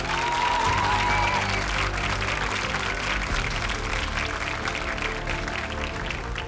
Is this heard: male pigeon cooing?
no